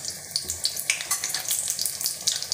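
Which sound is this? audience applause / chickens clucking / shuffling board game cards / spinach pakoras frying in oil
spinach pakoras frying in oil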